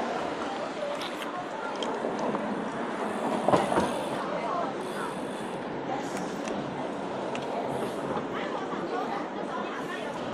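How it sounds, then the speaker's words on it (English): A steady rumble of a train rolling along the rails in Taipei fills the whole stretch, with a soft rattle and faint voices chattering in the background. "we're gonna ride the train again, the same train, to another coffee shop"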